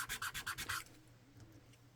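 Fresh Dutch rush plant used as a fine abrasive on wood gives about six quick rhythmic rubbing strokes, close and fairly quiet, then fades into near silence.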